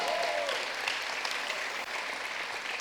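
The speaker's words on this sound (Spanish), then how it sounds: "Denle un fuerte aplauso a Dios." A church congregation claps steadily and loudly, a dense wash of applause that keeps going throughout.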